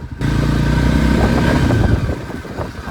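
Voge LX300GY 300 cc motorcycle engine running steadily on a test ride, a continuous loud mid-pitched drone with a slight rise and faint mechanical clatter, close and with no talk over it.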